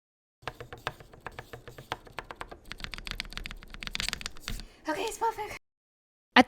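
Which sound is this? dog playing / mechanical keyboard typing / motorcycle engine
mechanical keyboard typing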